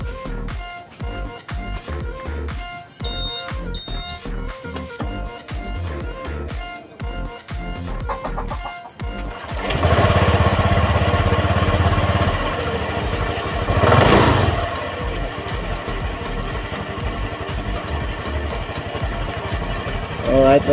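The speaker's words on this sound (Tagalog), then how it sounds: "papaandar natin tong motor" A Honda Click 150i motor scooter engine starts up with a burst, then settles into a steady idle, with people talking over the running motor.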